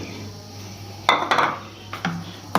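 Eggs cracked into a bowl for tea cake batter: a few close, sharp knocks and clicks of shell against the bowl rim in an otherwise quiet kitchen.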